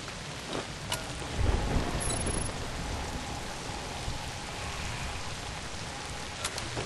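Heavy pouring rain with rumbling thunder in the horror video game ZOMBI, set in London, a steady dense downpour throughout with a louder thunder swell early on, no voices.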